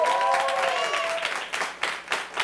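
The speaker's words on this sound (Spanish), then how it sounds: "No me aplaudan" A studio audience at a television talk show breaks into brief applause, starting loud and thinning into scattered claps that fade out within a few seconds.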